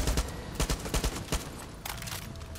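Rapid bursts of AK assault rifle fire in Far Cry 6 crackle in quick succession, a short automatic volley followed by a few more shots at moderate distance.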